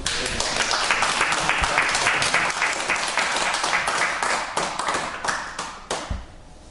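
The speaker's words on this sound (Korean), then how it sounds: "오늘 정수석 교수께 큰 박수." Lecture audience applauds a professor, with many distinct hand claps forming a lively, uneven patter that stays strong for several seconds and then thins into scattered final claps.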